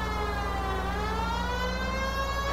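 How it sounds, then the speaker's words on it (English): A police car siren in the video game L.A. Noire wails steadily and loudly, its tone rising slowly through a continuous sustained call with no talk over it. "Because you don't know what a siren is."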